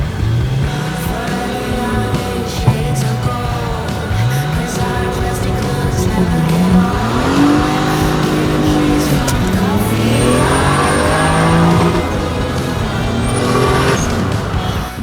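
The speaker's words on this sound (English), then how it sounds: "Getrag 220, we're gonna launch." A turbocharged 400 hp BMW E36 with an M50B25 engine and Getrag 220 gearbox launching on an asphalt road, engine revving and climbing through the gears, loud and close from inside the car.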